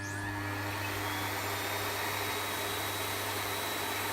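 Miele Complete C3 Silence cylinder vacuum cleaner running steadily at close range, a continuous broadband whoosh with a low motor hum and a faint high whine, no pauses and no talk.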